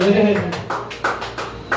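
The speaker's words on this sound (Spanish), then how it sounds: "Denle un aplauso al Señor." Rhythmic clapping in praise of the Lord at a church service, a steady beat of sharp claps about three per second under a speaking voice.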